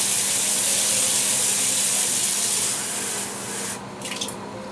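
A glass of water pours into a pot in a steady rushing stream, then eases off and ends in a few splashes and drips.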